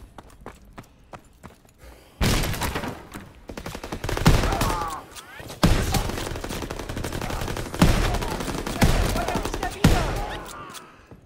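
Shotgun blasts and rattling gunfire in Call of Duty WW2, loud repeated booming shots in an irregular rhythm starting after a quieter lead-in, with footsteps and clatter between bursts.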